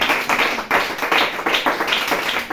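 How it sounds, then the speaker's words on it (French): A church congregation applauds in a burst of rhythmic clapping, fairly loud and close, steady throughout with slight pulses. "On acclame Jésus pour ça."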